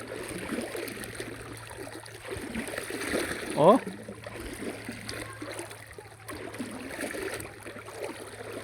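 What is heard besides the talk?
strong sea waves and current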